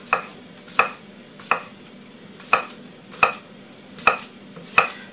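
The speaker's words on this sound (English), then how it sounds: "just cut small slices, leave the skin on the potatoes, and just cut small slices" Potatoes with the skin left on being cut into small slices on a board, seven sharp knife chops at an even, unhurried pace, close and clear over a quiet background with no talk.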